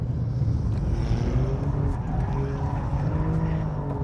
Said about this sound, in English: I'm going to see how easy this car is to slide.